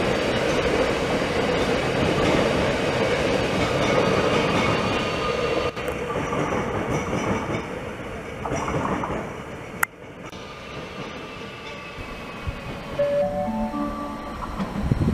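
A train runs through Linz main station in Austria, a loud continuous rumble of wheels and cars that later eases into squeals, clatter and a short rising electric whine as it slows.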